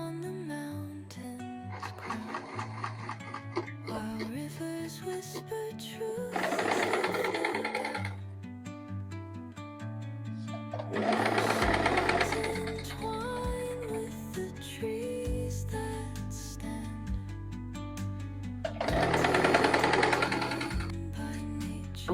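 A sewing machine stitching a garment seam in three loud bursts of rapid mechanical chatter, with quieter gaps between them and music playing underneath.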